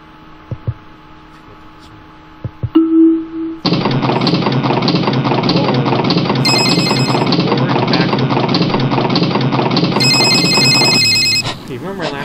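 A telephone rings in the Resident Evil: Bad Milk video game, a loud, sustained, buzzing ring that starts after a few faint knocks and holds steady for about eight seconds before cutting off.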